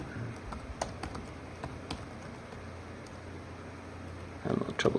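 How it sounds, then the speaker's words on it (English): Soft, irregular keyboard tapping in a quiet room, with a burst of quicker keystrokes near the end. "Have a little trouble typing there."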